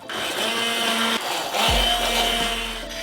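Immersion blender pureeing garlic into a sauce, a loud, steady motor whine that shifts pitch partway through as the blade bites into the mixture, close up and continuous with no talking.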